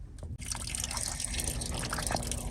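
Water draining from a PEX tubing water line via an opened tap, a steady rushing trickle that starts after a brief pause and keeps flowing with occasional drips.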